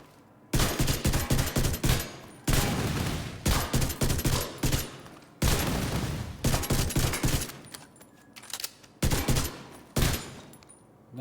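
In The Division 2 video game, loud rapid bursts of gunfire and a blast ring out in repeated volleys, separated by short pauses, dense and close throughout.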